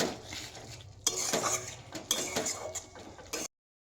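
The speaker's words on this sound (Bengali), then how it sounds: "দিয়ে ভালো করেও নাড়িয়ে নিচ্ছি" A metal spoon stirring egg curry in a pan, repeated close clinks and scrapes against the pan in an uneven rhythm, with soft sizzling underneath, before cutting off abruptly.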